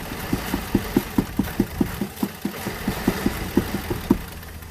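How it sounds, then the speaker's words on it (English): The engine of a 2010 Lincoln Town Car with a bad mass airflow sensor runs rough and close by, giving a steady train of uneven, thumping pulses as it struggles and stumbles toward a stall. "Stalled the engine out."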